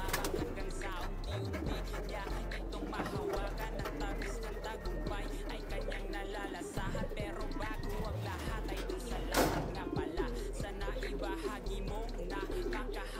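Racing pigeons coo softly in low repeated calls amid a busy background of chirps and faint voices, at a pigeon club race.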